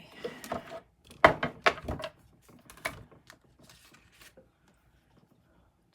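An embossing machine presses a single layer of cardstock for a two-tone holly Christmas card, making a quick run of close mechanical clicks and clunks that thin out into faint ticks and then quiet.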